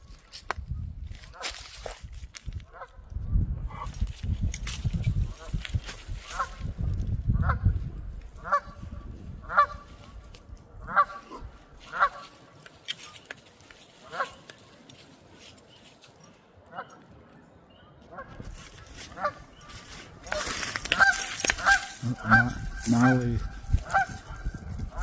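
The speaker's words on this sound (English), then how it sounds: "We got Canadian geese over here." Canada geese honk repeatedly in a series of nasal calls, fairly close, with rustling and footsteps between at Delaware Water Gap; a person speaks briefly near the end.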